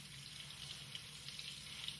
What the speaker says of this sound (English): she takes the sample out again, washes it thoroughly with water